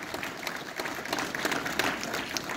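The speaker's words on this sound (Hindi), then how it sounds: "जोरदार तालियों के साथ, करतल ध्वनि के साथ इनका स्वागत अभिनंदन." An audience at the Himalayan Film Festival inauguration applauds to welcome film guests, a continuous, moderately loud mass of clapping with scattered sharper claps and light crowd noise.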